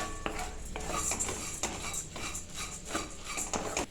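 Rice being dry-roasted in a pan over a medium flame while a spoon stirs it, with repeated scraping and clinking strokes against the pan and a faint crackle, close and fairly quiet, no talking.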